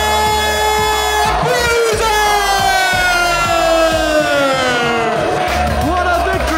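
Wrestling crowd roaring and cheering after the Ballymun Bruiser's win, a loud sustained wall of shouts and whistles filling the arena, with an announcer talking over it.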